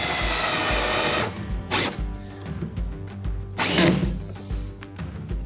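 A power drill drives screws through a backing ring into a plastic hatch on a Hobie Mirage Passport 12.0 kayak. It whirs steadily up close at first, then gives two short, loud revving bursts with quieter pauses between.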